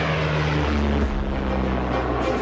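A propeller plane from 1947 carrying cargo to Wright Field, heard as a loud, steady engine drone that holds for the whole stretch, with a slight dip in pitch midway and no voices.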